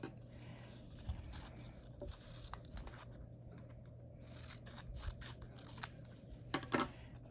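Scissors cutting a piece of card while making an ATC card, a string of crisp snips and scrapes up close, irregularly spaced and louder toward the end, with no talk.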